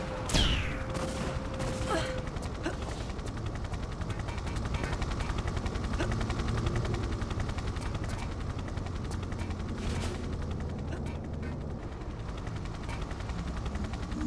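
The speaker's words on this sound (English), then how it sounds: "Oh, I hear a helicopter." Helicopter in the video game Tomb Raider 3 Remastered: a continuous rapid rotor chop with dense, rattling pulses that runs steadily throughout, alone and fairly loud.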